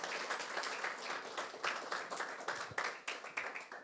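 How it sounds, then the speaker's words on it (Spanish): A church congregation gives sustained applause for the Lord during a service, with dense, fairly even clapping from many hands that rises and falls slightly over a few seconds. "Un fuerte aplauso para nuestro Señor y vamos a orar."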